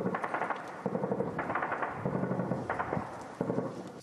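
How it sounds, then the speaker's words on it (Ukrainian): Machine-gun bursts and scattered explosions on a front line, heard at a distance as repeated rapid volleys of sharp cracks with heavier thuds mixed in, no voices. "Навіть посеред білого дня час від часу лунають кулеметні черги та вибухи."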